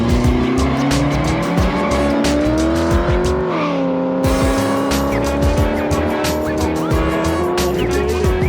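Drag race car at a no-prep street racing event revving hard with engine note rising and dipping, tires squealing and engine roaring continuously and close for several seconds, a brief dip mid-run, no clear speech.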